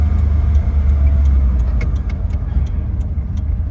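A 2025 Chevrolet Labo small truck drives along, its engine a low steady rumble heard from inside the cab, with light rattles and ticks over the bumpy road.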